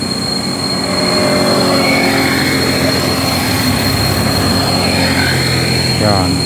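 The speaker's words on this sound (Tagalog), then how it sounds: "Ito pong parating na motor na to" A motorcycle approaches on the road to Kaybiang Tunnel in Ternate, its engine rising steadily over a constant high insect drone, with someone talking throughout.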